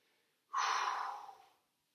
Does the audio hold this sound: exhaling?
yes